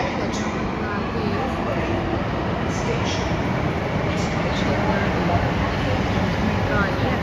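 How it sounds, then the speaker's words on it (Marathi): A metro train bound for Cuffe Parade pulls into a station, its steady, loud rumble and rolling wheel noise filling the whole stretch with no break. "मेट्रो आली आणि आम्ही बोर्ड करू."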